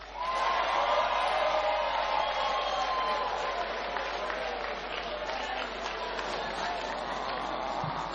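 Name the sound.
audience applause after a speech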